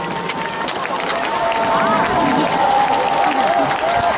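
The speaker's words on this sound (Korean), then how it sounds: "박수 힘차게 한번 부탁드리겠습니다" A baseball stadium crowd at Sajik applauds the players at the close of a 2024 preseason home game, a loud, dense, continuous wash of clapping and cheering that fills the whole stretch.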